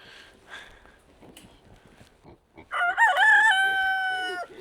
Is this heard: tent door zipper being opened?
no